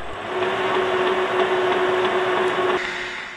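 A lathe motor runs steadily with a constant tonal hum and broadband whir, close and fairly loud, the machine being set up for cutting threads; it stops abruptly near the end, leaving a fainter hiss.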